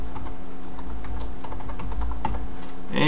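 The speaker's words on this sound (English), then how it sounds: "I'm going to go ahead and type in the password for the user2." A password is typed on a computer keyboard, with quick irregular clicking keystrokes close by over a low steady background hum.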